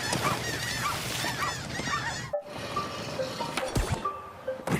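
Goose-like birds honk in a swarming attack in the video game Tony Hawk's Pro Skater 3+4, a chaotic noisy clamor that breaks off briefly, then resumes with scattered clattering and calls.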